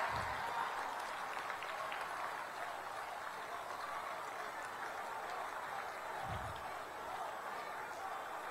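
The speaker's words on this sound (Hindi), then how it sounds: "आप सब अपनी गगनभेदी तालियों की ध्वनि से माननीय प्रधानमंत्री जी का हार्दिक अभिवादन अभिनंदन एवं स्वागत करें" An audience at a large public rally in Khanapara welcomes Prime Minister Narendra Modi with steady applause that sounds faint and distant throughout.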